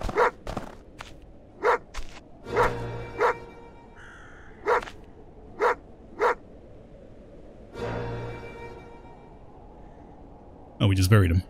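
A dog in a hardcore survival video game barks in a series of short, sharp bursts spaced a second or two apart, with a person talking in between and footsteps now and then.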